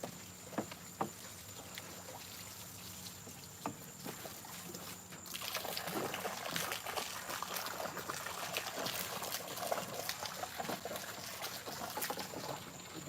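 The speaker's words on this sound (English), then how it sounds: "Get the old nasty water out of there." Old water is poured out of a bait tank at a catfishing spot in hot weather, a steady rushing splash that rises and grows denser halfway through, close and without talk.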